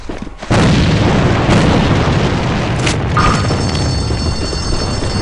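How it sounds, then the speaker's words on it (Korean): A grenade blast in the online shooter AVA erupts as a loud, sudden boom, then sustains a heavy roaring rumble that fades only slightly over several seconds. "수류탄 투척!"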